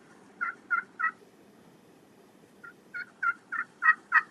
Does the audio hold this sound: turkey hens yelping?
yes